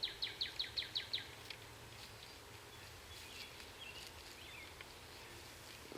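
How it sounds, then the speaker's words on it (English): A quick run of small bird chirps at the start, about eight rapid notes, then fainter scattered calls over a quiet outdoor background. "I hear some little birds sometimes."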